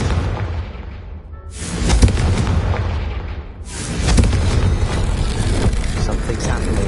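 A Confringo fire spell explodes in the video game Hogwarts Legacy, two heavy booming blasts with rumbling tails, loud and close.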